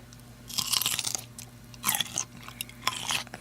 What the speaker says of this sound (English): Now, listen to this crunch.